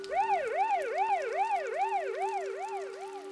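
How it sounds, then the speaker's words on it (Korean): Ambulance siren wailing in a steady, rapid up-and-down sweep, loud and close, repeating about eight cycles without pause and with no voices. "잠시 후 학원 아래층에서 응급자 사이렌 소리가 들렸다."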